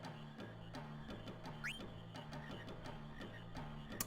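Frog croaking in the Final Fantasy 9 video game, repeated rhythmic croaks over a steady looping game ambience, with a brief rising chirp partway through.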